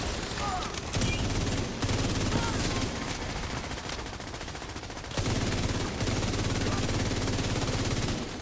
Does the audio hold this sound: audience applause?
no